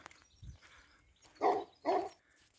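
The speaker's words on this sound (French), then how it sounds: "Ah, il y a un chien." Dog barking twice outdoors in an olive grove in the Douro valley, two short, moderately distant woofs a half-second apart after a faint lower sound.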